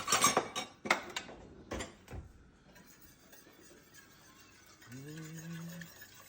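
Metal kitchen utensils clatter and clink in a drawer while someone fetches a whisk for shrimp Alfredo, a burst of several sharp rattles up close, then quieter shuffling and a short voiced sound near the end.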